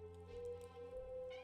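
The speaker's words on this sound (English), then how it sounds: "You're just gonna meow at me the whole time." A pet cat gives a faint, short, tonal meow, quiet and brief against a low background hum, with no talk.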